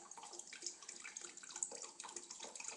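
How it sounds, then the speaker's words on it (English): Vodka poured into a glass, a quiet, trickling and splashing liquid stream with small irregular bursts, faint and close, with no talking over it. "Just gonna pour the rest of my vodka in the glass."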